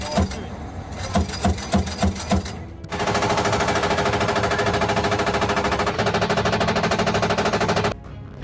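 An M2A2 Bradley firing its 25mm Bushmaster cannon and 7.62 M240 machine gun at positions near Robotyne, a string of sharp separate shots followed by a long, loud continuous burst of automatic fire that stops abruptly, then a short pause.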